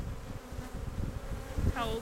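Honey bees buzzing around an open hive, a steady, moderately faint insect hum close by with a few louder passes, while quiet voices murmur in the background.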